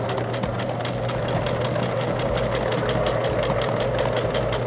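An electric sewing machine runs steadily, stitching elastic onto a fabric face mask, its motor a continuous close, even mechanical hum with a rapid regular needle pulse throughout, no voices over it.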